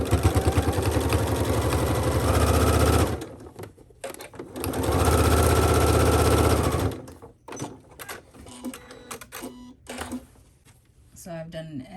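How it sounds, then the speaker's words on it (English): A domestic sewing machine runs an edge stitch in two loud sustained bursts of rapid mechanical whirring, separated by a pause, followed by quieter handling clatter and a few short stitching spurts. "I'm actually going to do an edge stitch."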